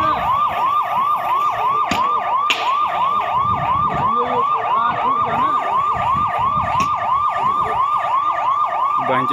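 A fire engine siren wails in a fast, regular cycle, loud and continuous, over faint road traffic.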